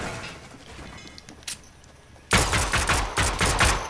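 Combat pistol gunfire in Fortnite, a single faint crack followed by a loud, fast string of close shots in quick succession.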